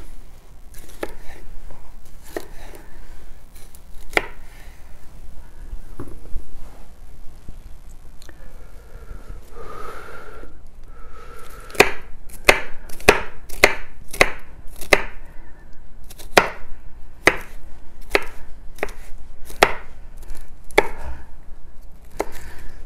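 A knife chops food into strips on a cutting board while making a Cajun shrimp and black bean salad, giving sharp, close knocks that start sparse and irregular, then become a quick steady run of cuts with no talking.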